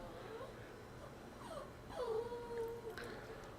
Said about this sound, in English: Sorry if you hear the dog. He's being a little grumpy boy.